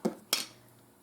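Two quick clinks of a utensil against crockery while serving creamy crockpot pork chops onto a plate, light and close in an otherwise quiet kitchen.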